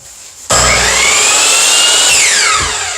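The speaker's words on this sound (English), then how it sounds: "we're just going to go and take our little saw over there" A small saw cuts through strawberry plants, starting abruptly as a loud, continuous buzzing whine that holds steady and then drops in pitch near the end, close to the listener with no voices.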